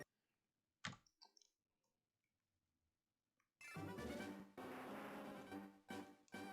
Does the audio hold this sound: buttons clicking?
yes